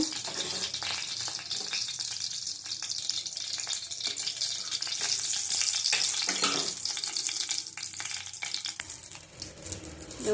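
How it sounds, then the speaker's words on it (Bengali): Whole cumin seeds and bay leaves frying in hot oil for a tempering, giving a continuous close crackle and sizzle with scattered light pops and some stirring clicks, easing off near the end. "গোটা জিরে ভালো করে ফোড়নটা ভেজে নেব"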